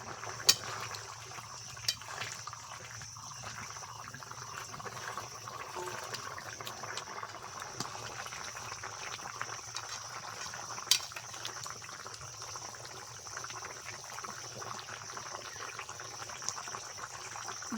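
Curry gravy at a rolling boil with fried rohu fish pieces added on top, a soft continuous bubbling and simmering with a few faint clinks, quiet and steady throughout with no talk.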